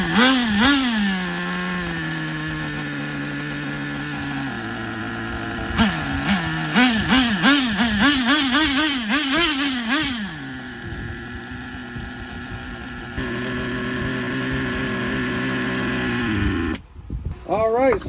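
A Traxxas Nitro Rustler 2.5 nitro RC engine running loud and close, a buzzing, raspy two-stroke whine that rises and falls in quick revving bursts before settling to a steadier note, with brief dips.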